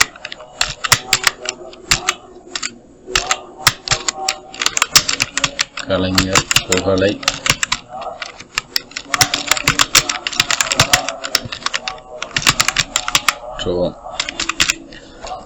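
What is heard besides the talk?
typing on a computer keyboard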